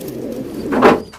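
Imported French meat pigeons in a cage give a single soft, throaty coo close by after a faint background murmur, with no voices.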